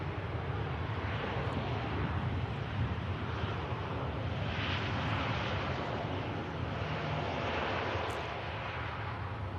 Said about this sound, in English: here is the Virgin Atlantic 330 aircraft heading over to Las Vegas